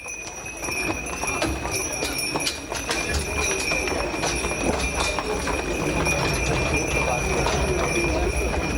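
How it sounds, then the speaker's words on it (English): Steady clip-clop of hooves on pavement from a horse-drawn carriage on narrow streets of a Swiss town, continuous and fairly close, with a high ringing tone and street bustle behind. "only the special electric carts and the more traditional horse-drawn carriages compete for space on the narrow streets"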